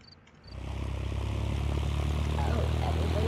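A bush plane's propeller engine in the video game Wobbly Life spins up from a quiet start into a steady, loud, droning whir with a low throbbing hum that holds close and constant.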